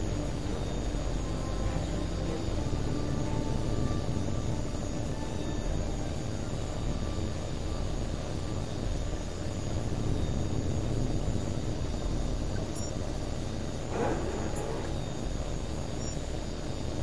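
Fighter jet engine roaring steadily through a takeoff in the HAWX 2 air-combat video game, a continuous broadband rumble that holds loud and even throughout.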